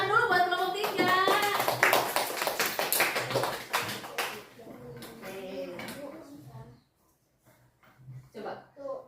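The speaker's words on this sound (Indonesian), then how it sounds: "Tepuk tangan dulu buat kelompok 3." Classroom applause for a student group, a burst of dense hand clapping with some voices over it, tapering off after a few seconds into quieter talk and scattered taps.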